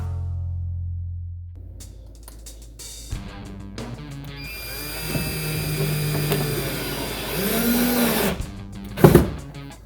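A power drill bores into a wooden wall stud: a few clicks and handling knocks, then a motor whine that builds and holds for several seconds before a sharp final burst.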